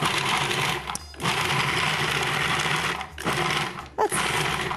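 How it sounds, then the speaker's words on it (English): A food processor whirs steadily as it blends parsley and mint leaves, a loud continuous motor drone broken by a few short pauses, with no talking. "we put all that in our food processor and we'll process it"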